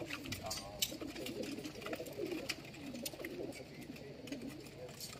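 Pigeons cooing during homing training outdoors, soft repeated coos and bird calls over steady background noise with voices talking nearby.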